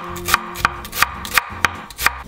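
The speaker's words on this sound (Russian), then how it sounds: "Стараемся помельче нарезать лучок." Onion is chopped finely with a knife on a board in quick, regular sharp taps, about three per second, close and clear with no talking.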